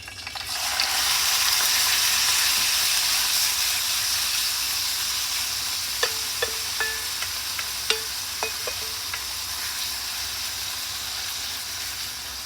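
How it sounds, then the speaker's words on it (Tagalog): Sliced pork for Japanese shoga yaki sizzles steadily in a hot pan, a loud continuous frying hiss with a few light clicks and taps of a utensil against the pan toward the end. "And then we will put the pork."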